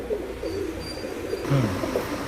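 Pigeons, including Giribaj high-flyers kept for sale, coo softly nearby in a few short, low, throaty phrases over quiet background noise.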